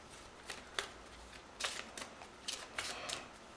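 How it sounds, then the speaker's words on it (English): Unsleeved trading cards being riffle-shuffled by hand, a series of crisp, papery riffling bursts at close range with short pauses between them, no voices. "we are shuffling cards without any sleeves on them"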